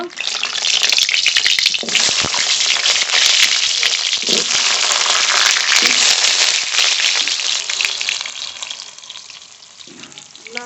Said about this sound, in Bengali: কেটে ধুয়ে রাখা আলু ভেজে নেব